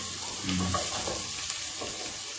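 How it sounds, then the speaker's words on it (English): Onions frying in a pan for coconut beans, a close, bright sizzle with a few scraping stirs near the start. "our onions are cooking"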